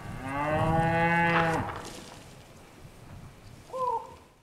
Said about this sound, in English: 87-year-old Harold Lowell has a small herd of cattle on his land north of Agra.